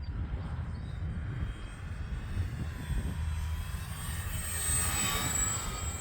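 Small F4U-4 Corsair radio-controlled model airplane engine droning steadily during a wide bank turn, a continuous buzzing whine that swells slightly louder toward the end, heard alone outdoors.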